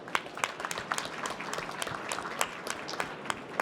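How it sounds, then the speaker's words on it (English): An audience claps steadily in a dense, even round of applause at a CES health tech pitch contest, heard from a moderate distance with no voices over it. "Let's give them another round of applause."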